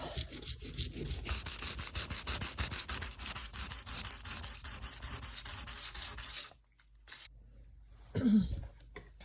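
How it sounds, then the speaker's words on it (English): Abrasive scuffing of a Starlink dish mounting surface to prep it for sealant and adhesive, a steady rasping rub of back-and-forth strokes for about six seconds, then a pause and one brief final scrape. "Alright, so I'm just going around kind of scuffing that area up."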